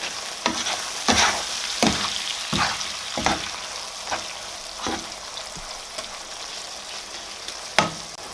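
Mushrooms frying on top of meat in a pan for Aleppo-style rice with chicken and nuts, giving a steady sizzle broken by repeated scraping stir strokes, close and moderately loud with no talking.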